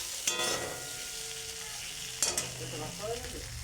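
Vegetable curry fries down in a pan with chili powder, a low continuous sizzle with stirring scrapes and two sharp utensil clinks against the pan, close and quiet.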